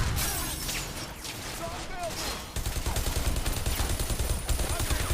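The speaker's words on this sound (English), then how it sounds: "So let's throw a real grenade." Grenade thrown in the Bodycount first-person shooter, with loud game gunfire and bursts of shots rolling on after a sharp change midway, a dense crackling battle din under the throw.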